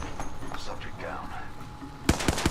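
Three sharp gunshots crack out near the end of a short stretch of in-game chatter and ambient noise from Apex Legends, loud and close in quick succession.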